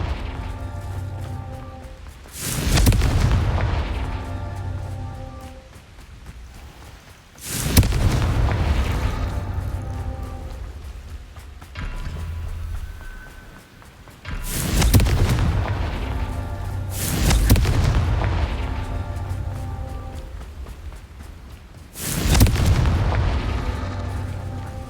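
Confringo fire spells blast repeatedly in the Hogwarts Legacy game, five or six deep booming explosions a few seconds apart, each with a loud burst and rumbling tail over low background music.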